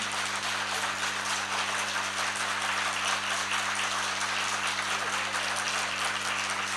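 An audience claps steadily through the whole stretch at a Hindu-language religious sermon, a dense even patter of many hands with a faint steady hum beneath and no voices.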